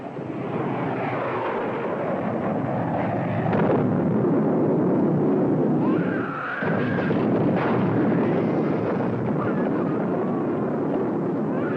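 Cannon fire booms in a retro sci-fi serial space battle, heard as a sustained roaring, rumbling blast with a swooping whine partway through, loud and close with no talking.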